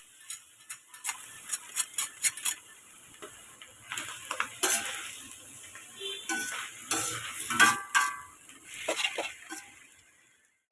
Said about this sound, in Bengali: সিদ্ধ করা সব সবজিগুলো এখন এর মধ্যে দিয়ে ভেজে নিব